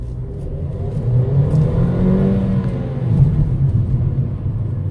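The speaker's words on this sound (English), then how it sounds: "I would try to show you a full power pull here and see what we can do" A Mercedes A-Class car engine revs hard through a full-power acceleration pull, a loud, steady mid-pitched roar with rising harmonic sweeps and no talking over it.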